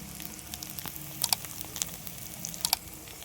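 Onions sautéing in a pan for a village-style chicken fry, a steady soft sizzle with scattered crisp pops and crackles, close and alone.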